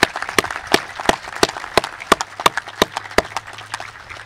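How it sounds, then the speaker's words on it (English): Audience applauds at a Naval Civil Engineer Corps Officers School graduation ceremony, with sharp, separate claps standing out over a low steady murmur and a faint hum. The clapping is moderately close. "So just a brief round of applause for everyone that helped get these students through."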